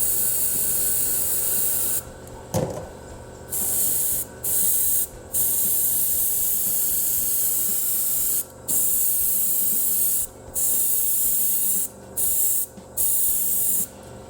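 An aerosol can sprays paint onto an Eldar Revenant Titan model in thin coats: long, steady, close hissing bursts broken by short gaps where the nozzle is released, with a quiet hum between passes.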